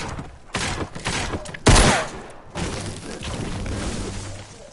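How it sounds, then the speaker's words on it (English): Video game gunfire, bursts of rapid shots and one heavy loud blast among scattered pops, close and dense, with a voice briefly under the noise. "Oh my god, I'm getting shot at."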